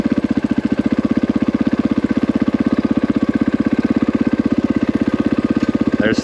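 A KTM 500 EXC-F dirt bike engine pulls hard in second gear, a loud, close, rapid pulsing thump that holds steady for several seconds before easing off at the end.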